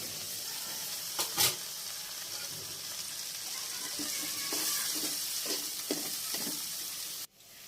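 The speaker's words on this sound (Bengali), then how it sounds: "এবার বাকি তেলের মধ্যে পেঁয়াজ, রসুন, কাঁচামরিচ, একটু আদা কুচি করে এটাকে একটু কষিয়ে নিব" Onion, garlic, green chili and chopped ginger fry in leftover oil for muri ghonto, a quiet, steady sizzle with a couple of sharp clacks early on and a run of rhythmic spatula stirs later, no talking.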